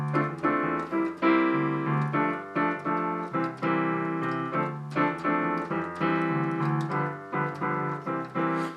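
Piano plays chords in a 3-2 clave rhythm in a Ghanaian praise style, a steady stream of short syncopated stabs over a bass line, clear and close with no talking.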